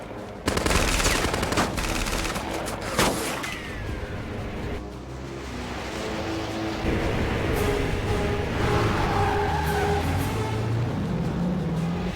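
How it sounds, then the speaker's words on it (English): Bursts of automatic gunfire from the ground crackle amid a busy, noisy action-film battle scene with helicopters, with engine drone and sharp reports rising and falling throughout. "we have gunfire on the ground from the east"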